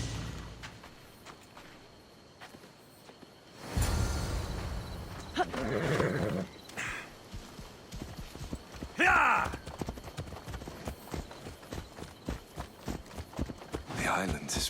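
Horse hooves clip-clop steadily while riding in Assassin's Creed Odyssey, a rhythmic galloping patter with a brief neigh, the hoofbeats continuing under stretches of talk and music.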